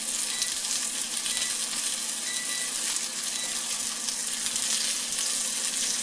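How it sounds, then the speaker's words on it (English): Sausages sizzle steadily in a hot frying pan, a close, even crackle and hiss with no talk. "Just sizzle away."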